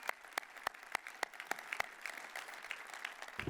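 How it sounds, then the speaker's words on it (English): A small audience applauding, distinct sharp claps blending into a steady patter of clapping throughout. "you deserve a big round of applause"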